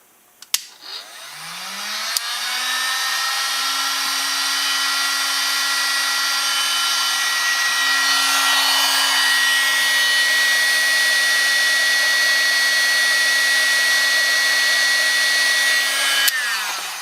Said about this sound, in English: the sound you're going to hear is my heat gun